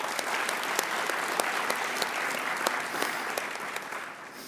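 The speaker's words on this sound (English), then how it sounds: "give them another big round of applause" Sustained audience applause at a space station research conference awards session as the winners leave the stage, dense and steady, fading slightly at the end with no talk.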